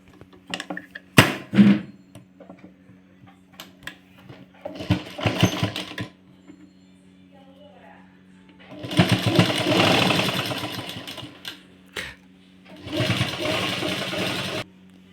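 Sewing machine stitching a quarter-inch seam on a blouse, heard in several close bursts of rapid mechanical whirring with quiet pauses and small handling clicks between them, and no talking.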